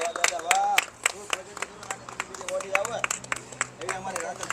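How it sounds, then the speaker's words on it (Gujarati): A group of friends claps loudly in celebration around a newly bought car in Ahmedabad, a burst of fast, uneven applause under excited chatter and voices close by. "તાળીઓ પાડો ભાઈ બધા જોર જોરથી."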